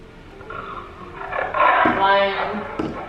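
A lion's roar rising to a loud, rough, drawn-out peak, with people talking over and around it.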